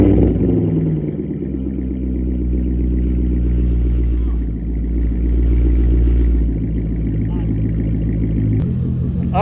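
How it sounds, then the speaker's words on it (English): A car with an X-pipe exhaust and no muffler idles and revs loudly up close, a deep throbbing rumble swelling and easing in a couple of surges, with voices talking over it. "Alright Gus, he's gonna rev the car for the second time."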